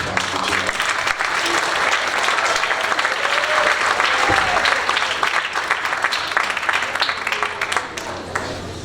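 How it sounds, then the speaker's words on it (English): Audience applause fills a high school band concert hall, greeting the concert band's concertmaster with a dense, steady wash of clapping that holds loud and even throughout with a slight fade at the end. "Let's hear a nice round of applause for Jaden."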